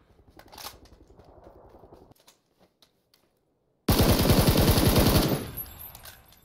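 A VSS rifle fires in PUBG: a scattering of light shots, then a dense, loud automatic burst lasting over a second, followed by quiet.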